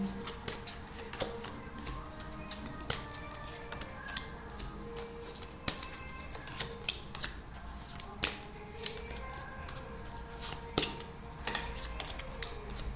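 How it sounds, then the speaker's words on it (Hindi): Tarot cards are drawn and shuffled by hand, giving a steady run of soft, close papery slaps and flicks, with sharper snaps every second or so over faint room noise. "फिलहाल मैं पहले सारे कार्ड्स निकाल लेती हूँ।"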